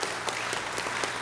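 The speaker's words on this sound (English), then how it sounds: "Give a round of applause to the Quincy Choral Society," Applause from the audience at a John Quincy Adams birthday wreath-laying ceremony, honoring the Quincy Choral Society; a brief, steady wash of clapping at moderate volume with no voices over it.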